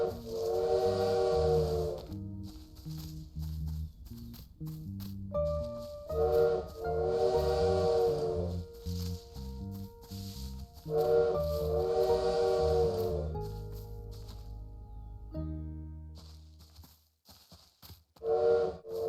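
In the video game Little Witch in the Woods, a bird mimics a train whistle: repeated steamy, tonal whistle blasts in several bursts, separated by gentle game music, with no talking.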